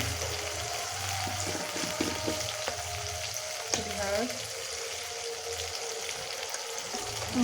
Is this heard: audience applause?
no